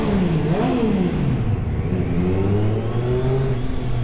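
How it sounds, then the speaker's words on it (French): A Triumph Street Triple motorcycle on its stock exhaust revs in the city, the engine note climbing and falling through several close, steady revs. "on va faire résonner le pot d'origine"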